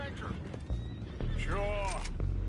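Horses in Red Dead Redemption 2 whinny loudly and repeatedly over hoofbeats and shouting voices, with a busy, chaotic backdrop.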